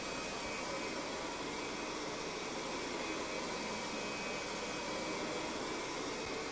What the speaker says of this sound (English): You are now ready to vacuum any hard surface floor.